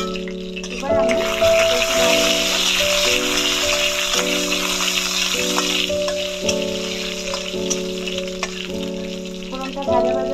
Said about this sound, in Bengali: ফোড়নটা ভাজা ভাজা হবে।